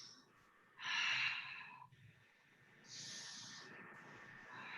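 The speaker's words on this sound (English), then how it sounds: "Deep inhales and exhales." Deep breaths during a yoga flow session, with a strong inhale around the one-second mark followed by a longer, softer exhale, close and fairly loud in a quiet room.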